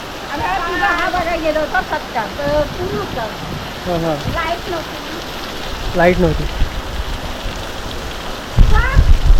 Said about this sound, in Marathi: इकडे बघा मुसळधार पाऊस